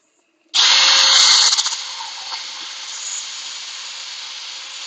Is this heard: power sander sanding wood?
yes